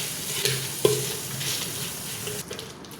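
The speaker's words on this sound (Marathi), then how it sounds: "चला आपण याला आता तांब्याने बारीक करून घेऊ" Tomato thecha being crushed and ground by hand with a metal lota pot, giving a steady scraping, grinding rub with a few sharper knocks, close up and without speech.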